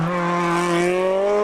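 A Honda rally car racing on a stage of the 2003 Circuit of Ireland Rally, its engine screaming at high revs in a rising whine, loud and close, briefly.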